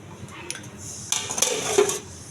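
A lid goes onto a cooking pot of tilapia and cucumber curry, with a few light metallic clinks and a short cluster of clanking knocks near the middle, close by.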